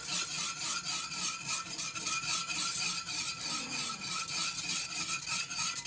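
Cheese fondue being stirred in a pot while chunks of cheese clump up, giving a continuous rhythmic scraping and rubbing sound, close and steady, with no talk.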